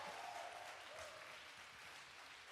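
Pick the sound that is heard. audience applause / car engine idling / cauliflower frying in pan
audience applause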